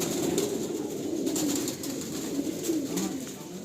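A pair of black chatiyal pigeons, male and female, held in the hands and cooing, soft low repeated coos close by over a steady background hiss.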